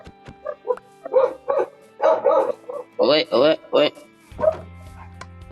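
A dog in Minecraft survival gameplay gives a series of short yapping barks in quick bursts, mixed in with someone talking over them.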